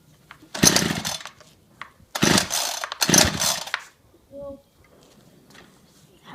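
A Ryobi CS26 chainsaw is cold started on full choke after priming, with three loud pull-cord rasps in quick succession and then a short faint tone as it fails to catch.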